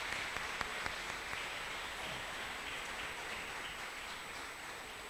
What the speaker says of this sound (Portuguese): Uma salva de palmas para os irmãos.